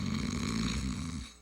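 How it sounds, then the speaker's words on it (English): A single long, loud snore rumbles with a rough, rattling texture, close and continuous, then cuts off near the end. "Snoring. It's not just something to laugh about."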